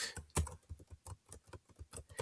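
Rapid typing on a computer keyboard, a quick, uneven run of close, crisp key clicks with one heavier keystroke near the start, no voices.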